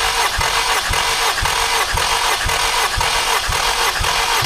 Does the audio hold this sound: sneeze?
no